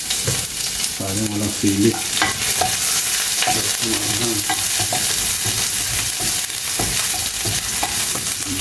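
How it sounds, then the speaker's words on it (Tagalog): Ginger and garlic sauté in a hot pan for caldereta, sizzling steadily and loudly while a spoon stirs and scrapes, with a person speaking briefly over the frying. "Igisa muna natin yung sabay na to, luya, bawang, luya."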